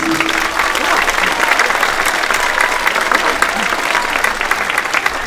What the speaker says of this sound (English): Let's give one more big clap for our grade threes.